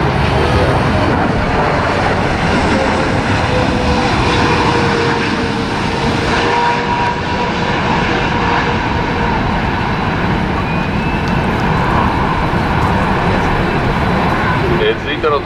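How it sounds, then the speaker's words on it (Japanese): A Japan Airlines Boeing 777-300ER arriving at Narita Airport on runway 16R roars loudly and continuously nearby, a heavy, steady jet rumble lasting the whole stretch. "日本航空の61便、機材はボーイングの777-300ER、 全長74メートルの大型機です。"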